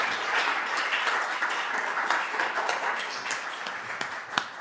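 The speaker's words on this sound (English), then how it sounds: "Can we give Professor Klotz a round of applause?" An audience at an academic jazz talk gives the professor a round of applause. Steady, moderately loud clapping from a seated crowd fills the room and tapers slightly toward the end.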